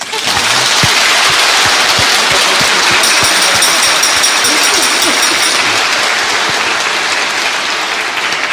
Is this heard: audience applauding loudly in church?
yes